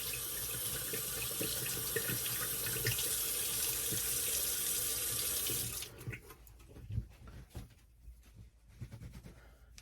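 A bathroom tap runs steadily at a sink as shaving gear is rinsed after a shave, a broad continuous rush for about six seconds before it shuts off, leaving quieter scattered drips and handling clatter.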